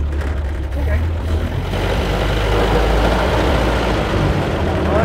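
A 1930 Ford Model A sedan engine running with a steady, rattly low idle, loud and close throughout.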